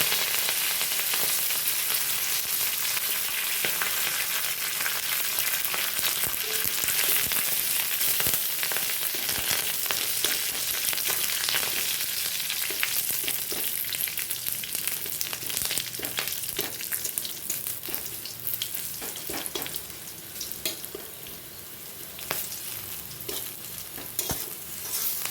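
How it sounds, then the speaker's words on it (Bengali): Curry leaves and rice fry and get stirred in a pan, a steady close sizzle with scraping spatula strokes running throughout, loud and continuous with no voices. "সমস্ত কিছু খুব ভালোভাবে ভাজা হয়ে গেছে, এবার তুলে নেওয়া হবে।"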